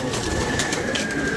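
Kept pigeons coo steadily around a rooftop loft near feeding time, a loud, continuous layered cooing from several birds close by, with no voices.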